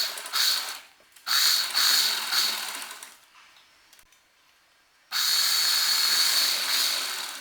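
Electric sewing machine stitching salwar fabric stiffened with paper, close and loud, in two long runs with a brief quieter pause between bursts.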